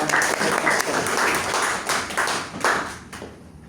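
Applause from the audience at a Toastmasters club meeting, a loud burst of many hands clapping that thins and fades out over a few seconds.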